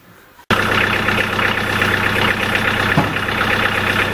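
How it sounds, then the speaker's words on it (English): A tractor engine starts abruptly after a short quiet moment and then runs loud and close at a steady, throbbing idle, with a brief dip near the end. "here we are with the tractor running"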